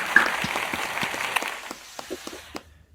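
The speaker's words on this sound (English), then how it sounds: "Ty, cue the claps" Canned applause on a sports podcast: a burst of crowd clapping that thins out and fades to silence within about three seconds.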